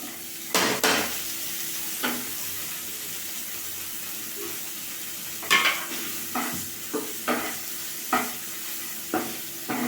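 Crumbled chhana fries in a pan with chili powder and coriander leaves, giving a constant soft sizzle. A spatula stirs and scrapes against the pan in irregular bursts, with several sharp clinks spaced through the cooking.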